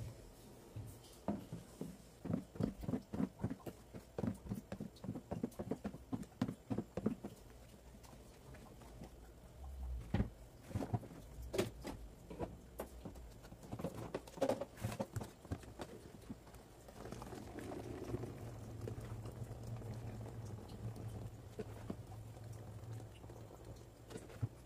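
Homemade liquid soap mixture stirred with added water, a series of close rhythmic knocks and sloshing scrapes in a container, with faster regular strokes early on and a continuous swishing later.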